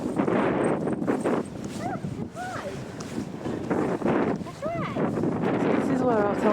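Strong wind on a hilltop at Winter Hill roars and buffets continuously in gusts, loud and close against the microphone, with faint chirping sounds mixed in.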